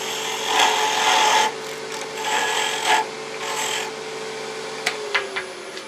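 A woodturning tool cuts into a spinning blank of wood and epoxy resin on a lathe, giving loud rasping bursts of scraping that come and go over a steady motor hum, with a few sharp ticks near the end.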